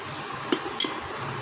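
Scissors snip thread or fabric while a frock is being stitched, two quick sharp metallic clicks close by over a quiet background.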